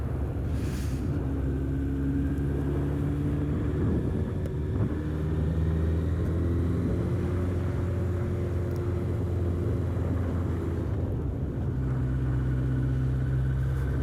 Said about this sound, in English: that bike just sounds lovely